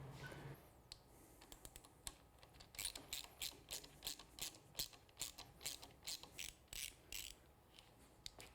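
Ratchet clicking while tightening a mirror mount on a Triumph Street Twin motorcycle: a quick series of sharp, close ratcheting clicks in rhythmic bursts that gets steadier and more regular after a brief quiet start, with no talking.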